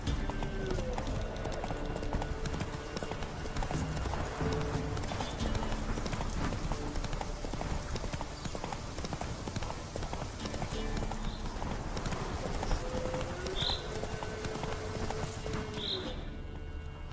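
In The Witcher 3 video game, the horse Roach gallops with a continuous rapid clip-clop of hooves heard close and steady throughout, plus an occasional brief whinny.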